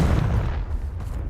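Confringo spell cast in Hogwarts Legacy, a heavy, booming explosive burst that starts loud and rolls off into a low rumble over about a second, with no voice over it.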